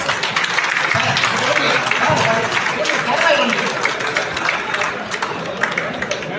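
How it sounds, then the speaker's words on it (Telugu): An indoor audience at a felicitation ceremony of a paramedical welfare association applauds in steady, dense clapping for several seconds, with crowd voices mixed in. "ప్లీజ్ గ్రాండ్ క్లాప్స్ అండి"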